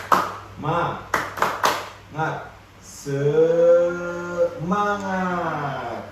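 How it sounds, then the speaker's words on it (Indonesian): A classroom does the rhythmic 'tepuk semangat' spirit clap: a short patterned burst of sharp hand claps, then voices of children chanting together in a drawn-out, sung call, fairly close and loud. "Tepuk semangat."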